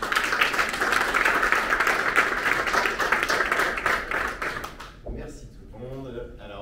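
Audience clapping at a networking event, dense and steady applause that fades out at the end as a voice begins talking.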